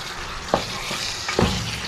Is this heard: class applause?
no